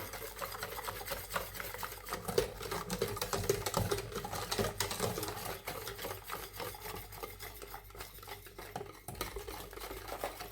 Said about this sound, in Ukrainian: Весь час помішуємо крем до загустіння, до перших бульбашок.